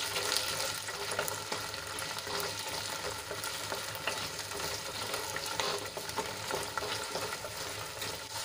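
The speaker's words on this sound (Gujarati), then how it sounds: "તો આ રીતે આપણે એને હલાવતા જઈશું અને થોડાક સોફ્ટ થાય ત્યાં સુધી 2-3 મિનિટ સુધી સાંતળી લઈશું." Gunda vegetable sautéing in a pan while being stirred, a soft, steady sizzle with faint scraping and crackling from the spoon moving through the pieces.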